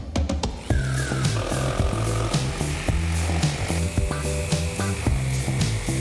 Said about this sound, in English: let the sander do the sanding